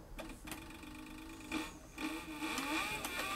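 A heavy-duty sewing machine driven by a servo motor sews thick material at slow speed, giving a faint motor whir broken by short stitching bursts and a few soft knocks.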